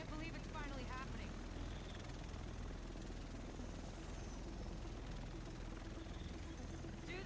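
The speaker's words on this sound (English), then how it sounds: "Here it comes. Chopper time." A helicopter arrives in the video game The Division: a steady, loud rotor and engine drone fills the scene throughout, with voices speaking over it at the start.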